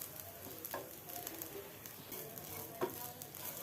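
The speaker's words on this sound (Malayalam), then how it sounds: "അടുപ്പത്ത് പാൻ വെച്ച് 1 ടീസ്പൂൺ നെയ്യ് ഇട്ട് കൊടുത്ത് കുറച്ച് കിസ്മിസും അണ്ടിപ്പരിപ്പും ഇട്ട് കൊടുത്ത് ഒന്ന് ഇളക്കി 1 ബൗൾ തേങ്ങ ചിരവിയതും കൂടി ചേർത്ത്" Raisins, cashews and grated coconut frying in ghee in a pan, giving a faint steady sizzle with soft crackles and a brief stir, close and quiet, with no voices.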